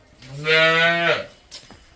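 Single cow at a dairy farm in Amritsar giving one loud, close moo lasting under a second, followed by a short fainter grunt.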